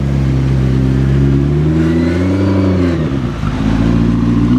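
McLaren 675 LT supercar accelerating in race mode, its loud engine note rising and sweeping up in pitch close by, with a strong steady roar throughout and a brief dip near the end.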